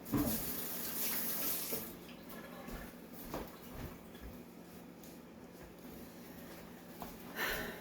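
Tap water runs steadily into a kitchen sink while sticky peach jam residue is rinsed off, a continuous close splash with brief louder surges at the start and end, no talking.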